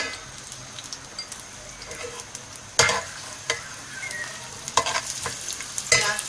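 Onions fry in hot oil in a pan for a chickpea korma-style dish, crackling and popping steadily up close, with sharper bursts and spatters now and then and no voices.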